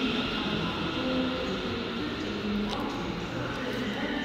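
A British Rail Class 380 electric train rumbles steadily through Paisley Gilmour Street station, a continuous broadband roar with faint squeals and clatter of wheels and no pauses.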